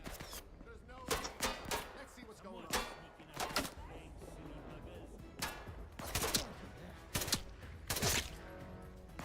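Scattered gunshots in the Atomfall video game, a series of sharp cracks with irregular gaps between them, heard over background game ambience and faint voices.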